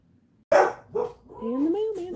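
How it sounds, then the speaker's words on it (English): Dogs in a home bark at a mail carrier, starting with a sudden sharp bark, then a second bark and drawn-out whining yips, close and loud. "please pardon us while the dogs harass the mailman"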